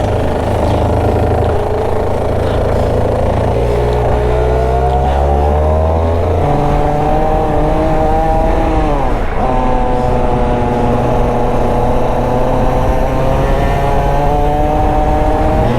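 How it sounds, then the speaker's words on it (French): A competition racing kart engine runs on a small track at a fair, a loud, continuous nasal drone whose pitch rises and falls as the driver accelerates and lifts, staying close throughout. "Dès que tous les karts vont rentrer, ça va être à moi de jouer, de découvrir cette petite piste."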